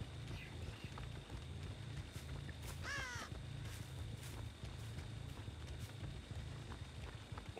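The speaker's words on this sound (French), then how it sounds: "L'oiseau il s'est reposé donc c'est qu'il y avait du monde." A crow caws in the game Dead by Daylight, a brief raspy call in the middle of a steady ambient background of footsteps and low rumble.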